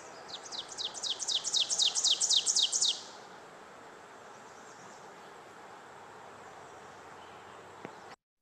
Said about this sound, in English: That's the oven bird.